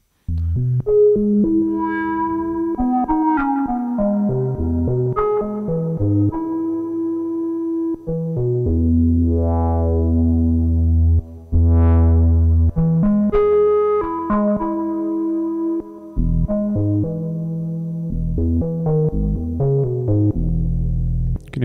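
A Behringer DeepMind 12 synthesizer plays a breathy, flute-like lead patch, moving through a melodic run of sustained, slightly detuned notes. It is loud and clear, with no voices.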